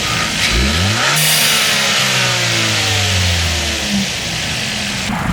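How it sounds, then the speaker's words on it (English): Turbocharged engine of a 2020 Kia Forte GT with its blow-off valve silencer removed, revving up in several rising pulls with a whooshing turbo note on top, loud and close with no speech. "we're gonna get much better sounds out of this engine."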